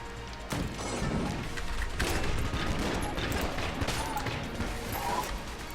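Dense, continuous gunfire in the twin-stick shooter Enter the Gungeon, with rapid bursts and impacts layered into a steady roar lasting several seconds.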